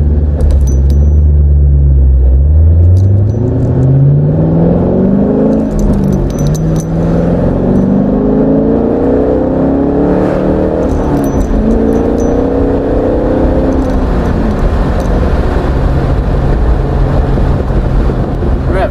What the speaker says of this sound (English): So much fun with this car.